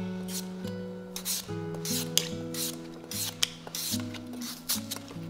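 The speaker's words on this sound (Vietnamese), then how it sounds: "Bạn có thể dùng dao bào như mình để cắt những lát khoai tây đều nhau như thế này ha." Thin potato slices shaved on a mandoline slicer for homemade potato chips, a steady series of close rasping strokes over a low hum, with no speech.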